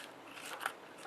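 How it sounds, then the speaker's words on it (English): Scissors snip through excess colored vellum while trimming a papercraft piece, a short crisp cut close by with a single sharper crunch, no talk. "you're going to turn it over and trim"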